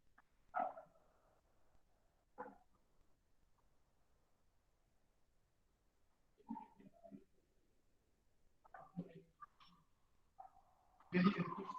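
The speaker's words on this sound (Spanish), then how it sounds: "Voy a hacer la puerta nomás para que esté un perro ladrando afuera" A dog barks in scattered bursts at a moderate distance, with long quiet stretches between them and a louder burst at the end.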